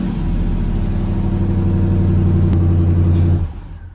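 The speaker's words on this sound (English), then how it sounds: "And the vehicle is going to allow me to be able to start it." A Ram TRX pickup engine runs steadily after the IGLA anti-theft PIN code is entered, a deep close rumble holding for about three and a half seconds before dropping off.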